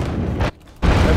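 Ship cannons boom in the pirate naval strategy game Abandon Ship, two heavy, loud blasts of rumbling fire split by a brief near-silent gap.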